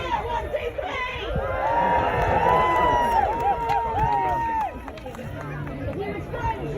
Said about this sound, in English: Let's hear a cheer! 1, 2, 3!